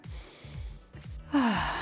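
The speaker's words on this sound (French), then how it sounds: "Prends une grande respiration." A person draws one deep, audible breath in during a guided exercise session for daily tasks, a sudden close inhalation near the end after a few quieter low sounds.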